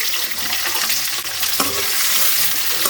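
Spiny gourd and curry leaves fry in sesame oil, making a loud continuous close-up hiss and crackle that hardly varies, with one faint knock partway through.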